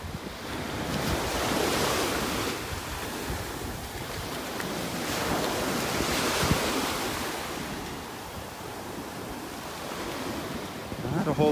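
Surf washes onto a beach in North Naples, Florida, on a morning walk, making a continuous rushing roar that swells and eases in slow waves, mixed with buffeting wind noise on the microphone.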